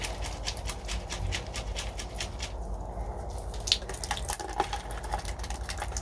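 Water trickles and drips close by from a plant pot, a light patter of drops running out, with a few louder splashes near the end.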